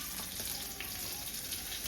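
Mackerel fish fry in a pan with a dense, even sizzle and crackle, fairly close and unbroken, with no voices.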